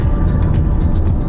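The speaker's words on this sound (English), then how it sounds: "And the McLaren just took off. Full speed. Did you hear it?" A McLaren sports car accelerating hard at full speed, a loud sustained engine roar with a low rumble and rising rasp that stays strong throughout the short moment, with no talking.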